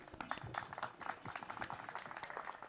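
Applause from an outdoor crowd at a village picnic as the chairman is handed the microphone for opening remarks, a fairly faint, steady patter of clapping lasting a few seconds.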